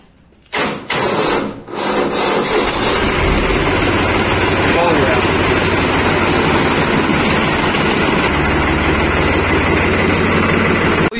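A New Holland 3630 limited edition tractor engine starts after a couple of brief cranking bursts, then settles into a loud, steady diesel idle close by, with a deep low rumble throughout.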